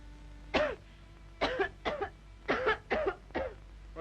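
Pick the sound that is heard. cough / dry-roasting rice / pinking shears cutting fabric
cough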